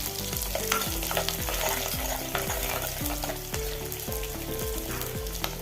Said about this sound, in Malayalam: കടുക് പൊട്ടി വരുമ്പം ചെറിയ ഉള്ളി ഇട്ട് കൊടുക്കാം